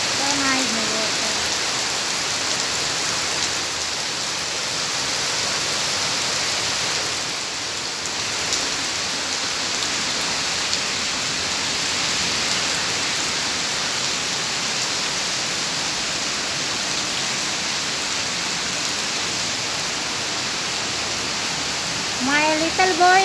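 Heavy tropical rain pours in Singapore, a dense, steady hiss of water drumming on surfaces throughout, loud and unbroken, with faint other sounds barely surfacing near the end.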